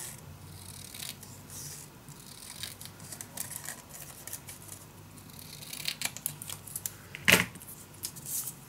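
Paper for a scrapbook mini album being cut by hand with scissors, a series of close crisp snipping and rustling sounds that build to a sharp loud cut near the end, no voices.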